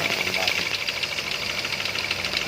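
Toyota Avanza with a 3SZ engine that has a knocking fault, heard as a fast, even metallic ticking over a continuous engine drone, moderately loud and close throughout.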